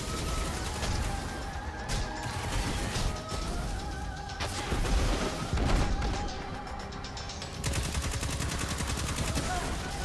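Continuous rapid gunfire and explosions in the video game Destiny 2, dense and loud throughout, with game effects layered over it and a voice talking underneath.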